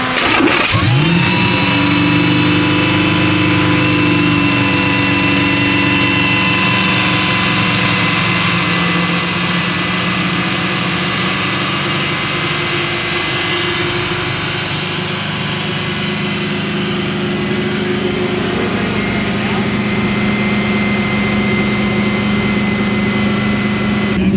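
A car engine fitted with a newly installed EFI system runs steadily at idle while warming up, a constant loud drone with a high belt squeal riding on top throughout.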